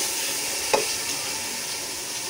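Cumin and spices stirred into hot oil in a pan, a steady close sizzle with one brief scrape of the spoon.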